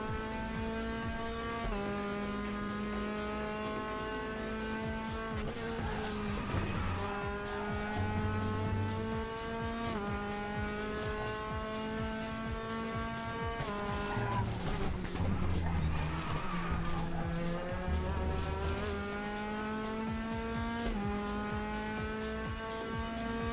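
Engine of an F3 open-wheel race car in the RaceRoom racing game, a steady high whine with shifting pitch through gear changes and corners, with tire skid and scrub noise layered in during braking, continuous and close throughout.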